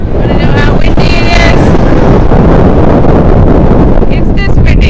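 Strong wind blasts across the microphone in a loud, constant roar that saturates the recording, with faint music-like tones briefly audible in the background.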